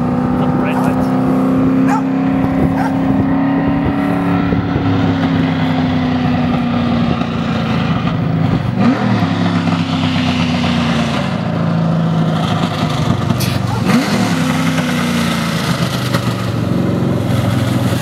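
A Nissan 240SX with a swapped-in LS V8 engine drives along steadily, its exhaust droning loud and close with a rising and falling engine note; people talk over it inside the car.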